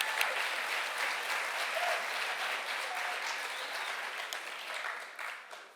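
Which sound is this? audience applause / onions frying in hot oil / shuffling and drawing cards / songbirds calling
audience applause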